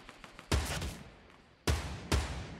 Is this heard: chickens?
no